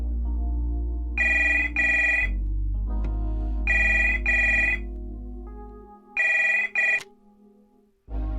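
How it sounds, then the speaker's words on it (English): Phone ringing after dialing in a video game, three paired electronic ring bursts spaced evenly with gaps between them over a low steady hum, then a sharp click as the line cuts off. "I dial my sister's phone"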